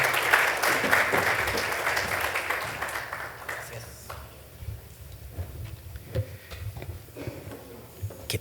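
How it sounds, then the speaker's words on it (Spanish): Audience applause fills a conference hall at a health management panel session for about four seconds, then fades into quieter room noise with scattered claps and faint movement. "con un caluroso aplauso al moderador de este bloque, don Raúl Aguilar"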